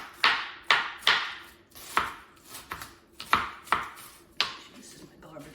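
A kitchen knife chopping and shredding cabbage for soup on a cutting board, with about ten crisp, close cuts in an uneven rhythm and short pauses between strokes.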